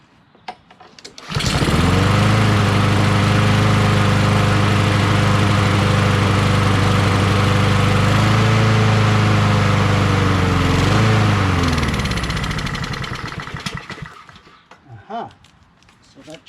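A Troy-Bilt TB130 push lawn mower with a Honda GCV160 engine starts up and runs loud and steady for about ten seconds, then winds down and shuts off, with brief talk near the end.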